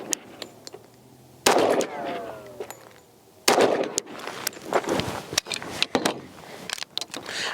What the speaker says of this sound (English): just shot 3 rounds